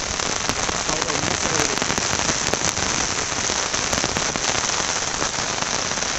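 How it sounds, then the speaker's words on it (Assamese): Heavy rain pours down in a field during fishing, a dense, loud, continuous roar of drops on surfaces with scattered sharp pattering hits throughout, no clear talk over it. "ইমান বৰষুণতে ভিডিঅ' বনাই আছোঁহি"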